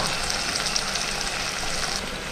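Spice paste for milagu vathal kulambu fries in hot oil with onion and garlic, producing a dense, steady sizzle and crackle close by, with no voices.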